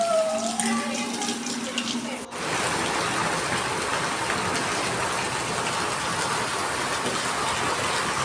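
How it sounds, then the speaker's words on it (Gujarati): Rain that has fallen steadily since morning, now at midday, hisses in a constant dense wash; a few seconds of outdoor bird chirps and other sounds come before it. "એક ધારો સવારનો વરસાદ આવે છે, ત્યારે બપોર થઈ ગઈ તોય વરસાદ ચાલુ છે."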